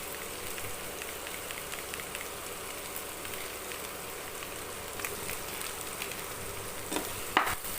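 Chicken masala and ginger garlic paste sizzling and frying in a pan, a steady dense crackle throughout with faint scraping stirs and a sharper clack near the end.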